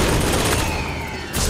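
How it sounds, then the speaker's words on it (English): Loud, continuous roar of cluster bomb explosions in Bioshock Infinite, a dense rumbling barrage lasting just over a second with a fresh blast surging at the end. "Okay, cluster bombs. Throw it again."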